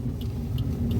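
A car creeps forward as the clutch is slowly released while a beginner drives through a narrow residential lane, a low steady engine rumble with three faint regular ticks, no talking.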